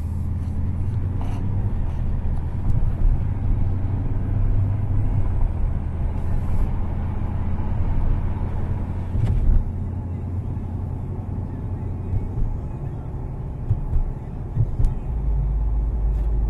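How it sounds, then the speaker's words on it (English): A 2017 Dodge Challenger R/T Scat Pack rumbles from inside the cabin during a test drive, a deep, continuous low growl that holds steady throughout with a few brief swells. "feel the rumble in the car, right?"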